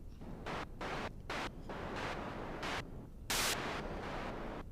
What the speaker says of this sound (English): I love white noise, so I love modulating white noise